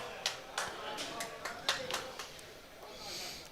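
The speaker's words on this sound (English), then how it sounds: "Even got a clap from Elaine." A single person claps at an outdoor lawn bowls game: a handful of light, fairly distant claps in an uneven rhythm over a low murmur of open-air background.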